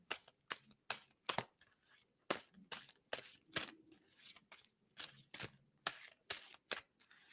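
Soft, close riffling and snapping of a card deck being shuffled, in a series of sharp, irregular bursts with quiet gaps between them.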